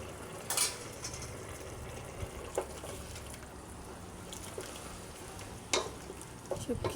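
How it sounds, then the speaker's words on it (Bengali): Bottle gourd curry with prawns and ground cumin fries in a pan as it is stirred: a low, continuous sizzle broken by a few sharp spoon scrapes and clinks spaced several seconds apart. "মিশিয়ে দিয়ে ঠিকঠাকভাবে নেড়ে চেড়ে"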